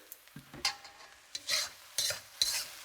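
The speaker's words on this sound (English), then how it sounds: "we're gonna toss in some vinegar" Vinegar splashes into a hot Thai stir fry, setting off short bursts of sizzling and frying hiss between scrapes and stirring clatter from the pan, close and fairly quiet, with no one talking.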